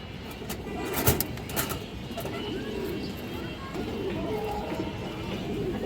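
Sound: pigeons

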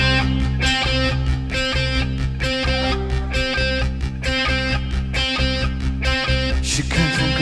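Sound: Band performing a song live, band music

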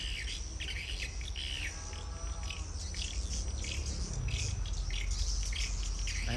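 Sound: swiftlet calls played to lure birds to a bird house

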